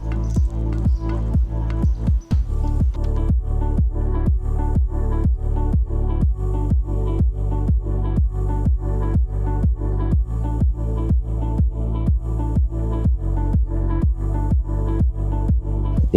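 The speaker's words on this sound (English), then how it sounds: "This will automatically start the siphon." Rhythmic, steady glugging and sloshing of water drawn through an aquarium siphon tube during cleaning of a five-foot tank, with regular pulses repeating throughout, close and fairly loud.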